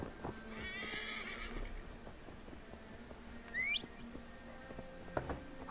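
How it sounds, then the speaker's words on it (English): A horse in Assassin's Creed Valhalla whinnies with a rising squeal, then hooves clip-clop steadily along a road over a low ambient hum, with a few sharp clicks near the end. "Apparently, the horse found a road."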